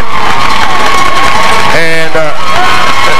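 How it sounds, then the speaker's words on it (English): A loud crowd at a 1993 Mexia versus Groesbeck high school football rivalry game cheers and shouts steadily from both sides, a dense roar with a voice speaking over it. "And there's a lot of cheering on both sides"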